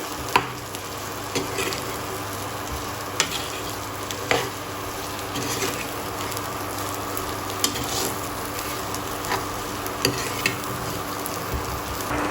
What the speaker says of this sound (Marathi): परत एकदा आपण वांगी छान अशी परतून घेऊयात